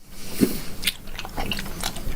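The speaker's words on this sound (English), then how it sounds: "Need a little more chewing." Big League Chew bubblegum is chewed up close in soft, irregular wet smacks and squishes over a quiet background.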